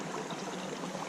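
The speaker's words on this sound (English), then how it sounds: "This is a little creek from Fay Lake flowing into Provoking Lake." A little creek flowing from Fay Lake into Provoking Lake gives a steady, even rush of burbling water, close and continuous with no voices.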